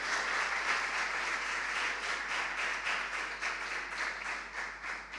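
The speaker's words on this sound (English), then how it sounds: "let's give them a round of applause" Audience applause for school quiz contestants, a steady dense clapping wash that holds loud and even for about five seconds with no talking over it.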